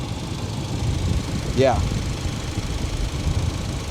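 A car engine idles steadily after warming to operating temperature, a continuous low rumble throughout with a brief rising whine in the middle and a voice speaking briefly over it.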